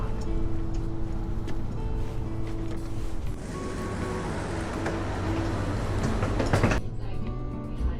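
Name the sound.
regional express train departing station in Austria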